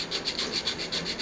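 Sanding a part from a 1966 Ford Galaxie 500 convertible under restoration: a steady, close rasping rub with regular back-and-forth strokes, hissy and even, with no talking.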